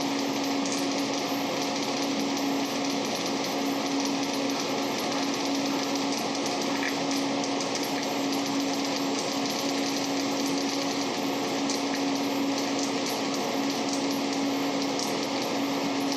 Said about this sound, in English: Just over halfway done with the weld at this point.